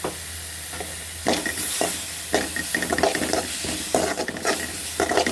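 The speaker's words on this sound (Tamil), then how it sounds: "வதங்கினோடனே இதில் வந்து நம்ம இஞ்சி பூண்டு பேஸ்ட்டு அரைச்சி வச்சுருக்கோம்ல அதையும் போட்டுக்கணும்." Ginger garlic paste and turmeric fry and get stirred in a pan for vegetable biryani, giving a loud, steady sizzle with repeated scraping stir strokes close by and no talk.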